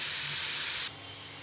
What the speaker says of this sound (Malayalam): ഇനി കുറച്ച് വെളിച്ചെണ്ണ ഒഴിച്ചുകൊണ്ട് നമുക്കൊന്ന് വഴറ്റിയെടുക്കാം